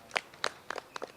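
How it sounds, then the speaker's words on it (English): An audience clapping at a send-off event for the Uganda woodball national team, a few brief, sparse hand claps heard faintly and at some distance. "Give them a very big hand clap."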